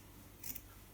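A single quick snip of scissors cutting through knitted fabric for a steek, close and faint against a quiet room.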